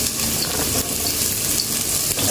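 Onion sautéing in a home kitchen pan, a steady close sizzle and crackle of frying that runs unbroken for the whole stretch, with no talk over it.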